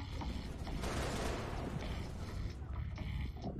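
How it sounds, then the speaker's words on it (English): A gun turret fires a rapid, dense burst in Halo: Reach, with mechanical clatter, close and loud for a few seconds. "They got the turret, and you're now in a neutral gun turret."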